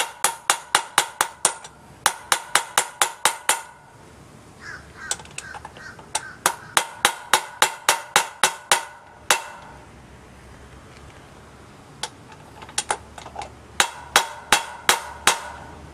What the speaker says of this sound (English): I'll pound down that socket a little bit, or pound it down just a little bit more to get those retaining rings to go in place